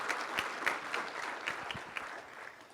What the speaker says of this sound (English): Can we get another round of applause for our panelists